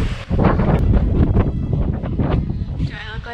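Strong wind buffets the microphone outdoors on a road trip through the English Cotswolds, a loud continuous rumbling gusting roar, with people talking over it.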